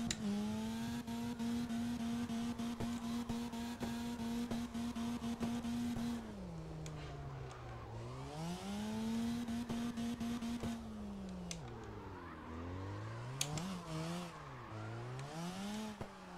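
A Mad Bull RX car in the CarX racing game, cruising in the evening, holds a loud steady engine whine before the revs drop and climb repeatedly as it shifts and drifts, with a brief tire squeal.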